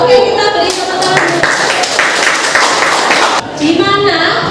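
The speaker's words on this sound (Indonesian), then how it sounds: "kita beri tepuk tangan" Clapping from a group after a school presentation in an academic supervision session, a short patter of hands mixed with voices talking over and around it.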